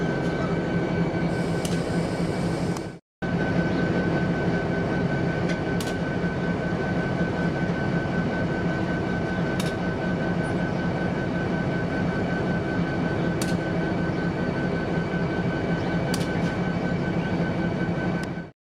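A Toys for Tots train on the Dover and Rockaway branch rumbles steadily and loudly for a long stretch, with a continuous droning hum and a brief cut near the start.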